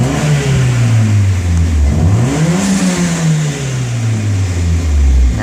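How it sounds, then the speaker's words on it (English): A Toyota Celica GT4 ST205, fitted with a swapped ECU and already at operating temperature, runs a brief idle-up after startup. The engine rises in pitch, then settles back to a steady idle. It is loud and close, with no talk. "So it'll do a little quick idle up with on startup, even though it's obviously at operating temperature. It's going to run its little RPM up"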